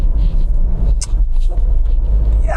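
Steady low engine rumble of a car driving along on LPG, even and continuous, heard from inside the cabin.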